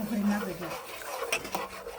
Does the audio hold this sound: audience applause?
no